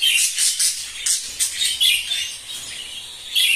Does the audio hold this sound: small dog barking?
no